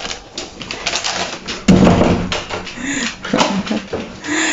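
A dog whimpers at the door of a home in Hong Kong, close by, letting out several short, rising whines amid light shuffling and tapping.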